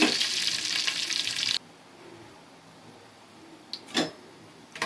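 Kasuri methi and cumin fry in a pan with a loud, close, steady sizzle that stops abruptly after about a second and a half, followed by a few faint clicks.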